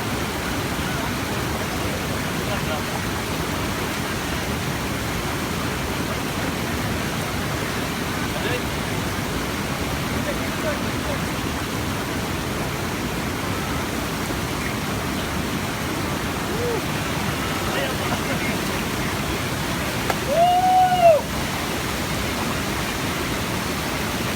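Steady, loud broadband rush of water from Abbi Falls at Hanubal near Sakleshpur, a constant roar filling the whole stretch with a brief chirp near the end.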